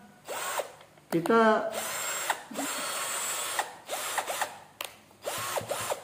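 A cheap cordless hand drill whirs in short bursts, its motor pitch sweeping up and down as it runs at high and then low RPM, with a ratcheting clutch clatter and someone talking between runs.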